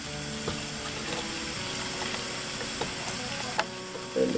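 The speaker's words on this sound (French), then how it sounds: "Vous pouvez le voir, mes œufs sont en train de cuire." Eggs cooking in a pan on the stove, a steady low sizzle and crackle with a few small pops and clinks near the end, heard alone without talk.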